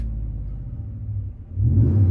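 A car engine idles with a deep, throaty Flowmaster Signature Series aftermarket exhaust rumble, dipping briefly before swelling louder and fuller.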